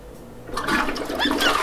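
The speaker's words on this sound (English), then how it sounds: "and flush." A toilet flushes close by, a rushing swirl of water rising suddenly and continuing loud and steady after a brief quiet start.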